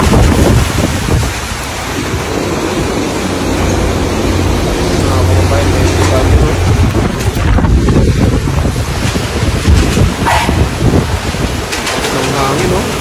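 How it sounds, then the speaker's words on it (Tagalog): Super Typhoon Uwan's strong wind roars and buffets the microphone continuously, with a dense hiss of heavy rain over knee-deep floodwater in the Philippines, and a faint voice partly buried beneath. "Ang hangin no? Tapos may kasama pang ulan."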